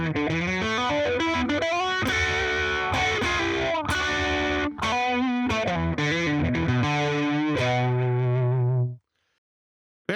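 Electric guitar run through a phaser pedal placed before the distortion, played as loud, heavily driven riffs and sustained chords with a sweeping, swirling tone, ending on a held chord that cuts off abruptly into silence.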